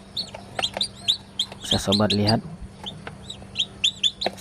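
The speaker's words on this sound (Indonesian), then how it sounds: "saya tunjukkan kepada sobat semua ayam dari hasil mesin tetas yang saya buat ini" Young chicks hatched in a homemade bucket egg incubator cheep in rapid, high-pitched calls throughout, while someone speaks briefly over them midway.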